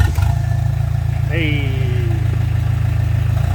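Ford Mondeo MK2 estate diesel engine cold-starting with no exhaust fitted, settling into a loud, steady, rough low rumble close by, with a brief turbo whistle and a short shout over it.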